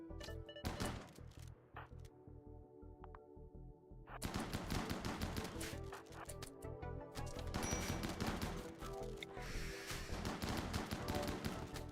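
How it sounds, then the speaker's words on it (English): Sustained bursts of gunfire in the RimWorld video game, dense rapid shots and impacts layered over a game soundtrack, loud and continuous with no talk. "Please stop shooting Sinzardi in the side."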